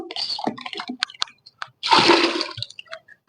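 Water and yogurt are poured together to make buttermilk: short splashy spurts and drips, then one longer gurgling pour near the end that fades into scattered drips, all close and without speech.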